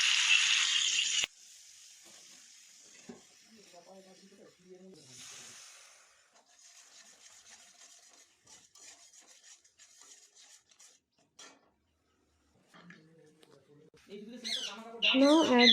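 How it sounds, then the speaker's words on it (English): A spice paste of turmeric and masala powders is stirred into oil in a cooking pan, giving soft, intermittent scraping and rubbing with a brief loud hiss at the start and faint voice-like sounds toward the end. "Then add in the oil and stir it well."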